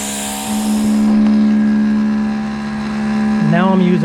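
A Greenworks Pro 3000 PSI electric pressure washer sprays through a turbo tip with a loud, steady motor drone and hissing jet close by, and a voice talks over it near the end.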